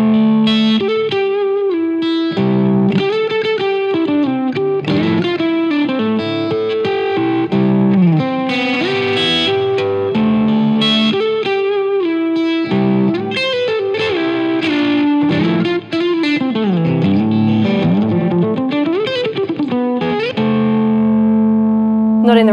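A Strandberg Paul Masvidal signature electric guitar plays a continuous, busy passage with a clean tone through effects. It sounds loud and shimmering with chorus and reverb, and the chords ring on to a held final note.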